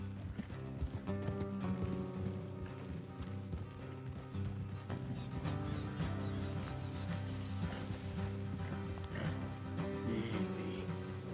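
Horses in the Red Dead Redemption 2 video game, with a steady clip-clop of hooves and an occasional whinny under a dense game soundtrack, faint and continuous with little speech.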